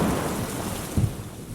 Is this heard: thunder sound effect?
yes